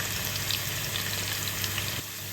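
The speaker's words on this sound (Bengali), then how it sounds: "আলুটা একটু ভেজে নেব, সামান্য ভাজা করে নেব।" Potato pieces frying in hot oil for a Bengali aloo potol curry give a steady, close, dense sizzle that runs unbroken and easing slightly near the end, with no talking.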